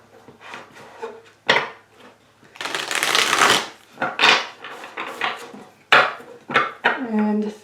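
Tarot cards are shuffled and pulled from the deck in bursts of crisp riffling and papery flicks, close and clear, with short pauses and small taps between handfuls.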